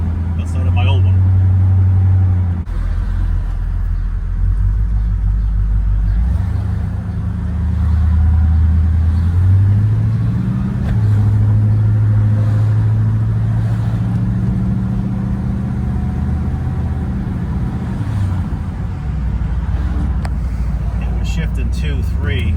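An Oldsmobile 442 with an automatic transmission drives along, its loud low engine drone rising and then dropping as the gearbox shifts, with someone talking throughout.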